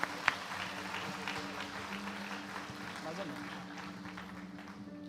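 A church congregation at Igreja Batista Vida claps together in a sustained, even round of applause filling the room, with a voice speaking over it.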